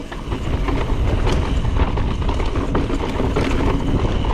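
Strong wind roars steadily against the microphone at the Red Bull Rampage mountain biking event, a dense low rumble with gusty buffeting throughout, loud and continuous with no voices.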